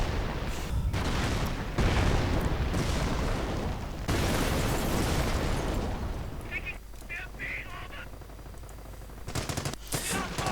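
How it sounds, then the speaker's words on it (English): Rocket barrages and explosions in a World War II real-time strategy game, loud dense blasts and rumbling impacts mixed with gunfire, easing toward the end into sparse pops while a commentator talks over it. "And rockets going in as well."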